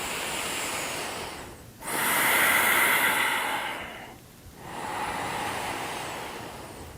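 Slow, deep breaths during a yoga session, long airy inhales and exhales rushing close to the ear in three drawn-out waves with brief quiet gaps between, and no talking.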